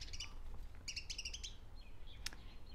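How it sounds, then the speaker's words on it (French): Several birds chirp outdoors in short bright bursts, a cluster of quick tweets followed by scattered calls, moderately close over a low steady background rumble. "je sais pas si vous entendez les oiseaux, c'est extraordinaire"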